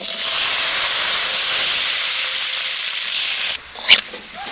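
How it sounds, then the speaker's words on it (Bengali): Grated coconut frying in a generous amount of hot oil in a wok, a steady broad hiss and sizzle that holds loud and close for several seconds, then drops away as a brief sharp clatter sounds near the end. "তেল গরম হয়ে গেছে নারকেল ভেজে নেবো"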